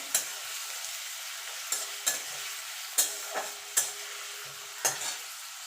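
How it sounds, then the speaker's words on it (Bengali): Carrots and beans fry in hot oil with a continuous sizzle, while a spatula scrapes and taps the pan in about half a dozen sharp, separate strokes, close and clear with no talking. "এই তেলেই আমি গাজরটা আর বিনসটা ভেজে নেব।"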